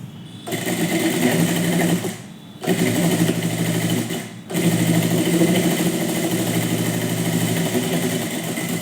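A sewing machine runs a fine seam along a neckline in three sustained bursts of rapid, even mechanical stitching, separated by two brief pauses, close and loud.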